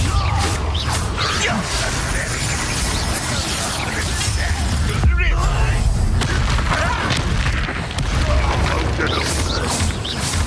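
In the video game Hogwarts Legacy, a Bombarda spell explodes amid a chaotic battle, with heavy booms, crashes and whooshes layered densely. The sound is loud and sustained, and voices shout over the fighting.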